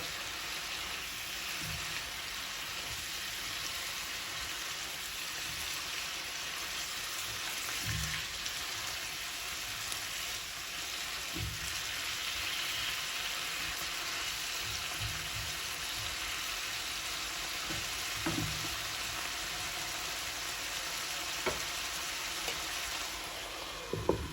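A vegetable bhaji fries in a pan, a soft continuous sizzle resembling light rain, with occasional stirring scrapes and clinks, no talk.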